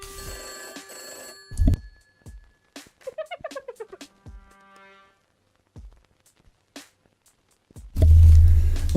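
Telephone tones in the video game Astlibra Revision: a steady electronic tone, then a run of short beeping pulses, ending in a louder burst of game sound.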